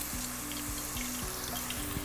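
Steady, loud sizzling of potatoes frying in hot oil, with a few low clinks and stirs underneath.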